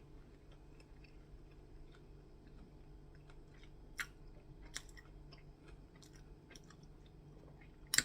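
Someone eats bibim noodles with grilled beef sirloin, making faint, close chewing sounds with a few soft clicks and taps in a quiet room.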